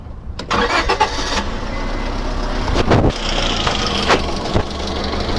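A 2003 Honda Civic with a 1.7-litre engine and a restricted exhaust cranks briefly and fires up, then runs on at a steady, loud idle close by with no talk.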